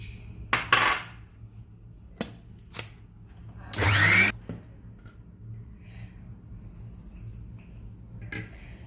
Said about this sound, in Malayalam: നമുക്കിതൊന്ന് അരച്ചെടുക്കാം